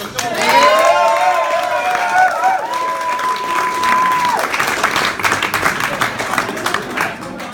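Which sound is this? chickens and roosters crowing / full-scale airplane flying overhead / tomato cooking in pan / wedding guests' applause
wedding guests' applause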